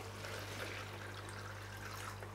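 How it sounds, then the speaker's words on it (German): Water is poured gently into a shrimp breeding box for Neocaridina or Caridina shrimp, a soft continuous trickle and splash at low level, steady throughout with a faint hum beneath. "So, ich gieße schon mal ein bisschen rein hier"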